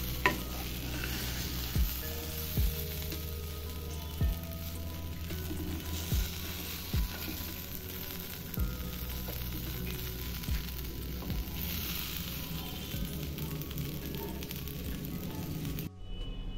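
Okra frying in a pan while being stirred: a steady close sizzle runs throughout, with regular scraping knocks from the stirring utensil every second or two, and no talk.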